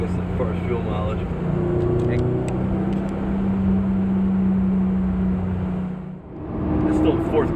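A 2017 Subaru WRX STI Limited engine pulls steadily in fourth gear at highway speed, a sustained low drone that holds for several seconds then briefly drops away, with people talking over it inside the cabin.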